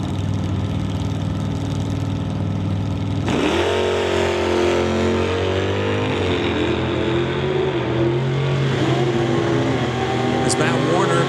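A Dodge Dart and a Chevrolet drag race car launch at an NHRA Summit ET bracket race. Loud idling engines suddenly roar and rev hard, then climb in pitch as they pull away, with an announcer talking over them.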